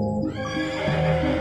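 A horse whinnies in the West of Loathing video game, a single loud, close, quavering neigh with a faint clip-clop of hooves underneath.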